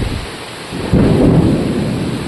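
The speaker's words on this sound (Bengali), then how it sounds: "তোমরা আওয়াজ পাচ্ছ হয়তো যে কিরকমভাবে বাজ পড়ছে" Thunder rolls during a rainstorm, a deep, loud rumble swelling over the constant hiss of heavy rain, with no voices.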